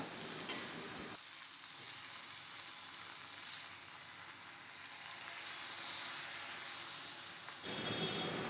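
Ivy gourd and potato pieces fry in a pan, a soft steady sizzle close by, with scraping stir sounds at the start and end and a quieter hiss between.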